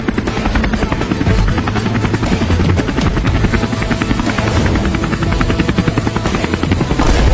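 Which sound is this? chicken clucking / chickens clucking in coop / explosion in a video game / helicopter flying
helicopter flying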